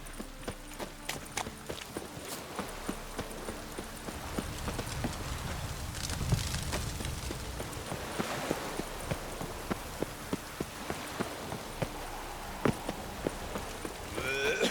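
Steady rain pours in The Witcher 3, a constant hiss of drops on the ground with horse hooves clip-clopping through it at an even pace, close and fairly loud throughout.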